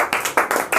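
A class of students claps hands for a correct quiz answer, a quick run of about five sharp, loud group claps in close succession.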